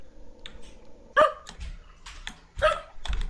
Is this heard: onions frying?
no